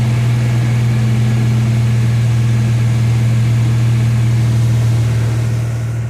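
A 1993 Chevy S10 truck engine runs at raised revs, giving a loud, steady droning hum that holds evenly with no speech and eases slightly at the very end.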